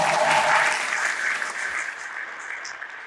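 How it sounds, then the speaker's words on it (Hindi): A crowd applauds warmly to welcome a guest of honour at a political party president's interview event, a steady dense clapping that stays fairly loud and fades slightly toward the end. "जोरदार तालियों से स्वागत करिए आज के इस हमारे लाजमी मेहमान का"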